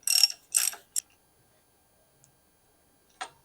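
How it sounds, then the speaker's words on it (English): A tool tightens the non-drive side of a bicycle crank during a build on a Velo Orange Rando frame. Three quick ratcheting clicks come close together, followed by a faint tick and one more click after a pause. "Tightening non-drive side clockwise."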